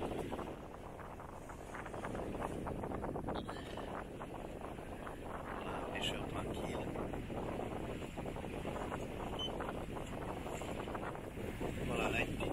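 A sailboat under sail at more than five knots off the west coast of Sardinia, with steady wind rushing over the microphone and water washing along the hull, a continuous close roar with occasional knocks and creaks.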